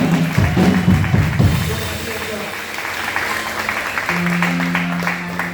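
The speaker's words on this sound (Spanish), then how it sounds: "Dale un fuerte aplauso al Señor." A church congregation claps together during a Spanish-language worship service, steady applause that fades as a sung or sustained tone comes in, with a voice audible over it.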